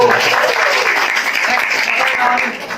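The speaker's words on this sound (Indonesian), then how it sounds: "Tepuk tangan" Audience applause at a community business seminar on stocking goods, a dense steady wash of clapping from a crowd that stays loud and then starts to thin near the end.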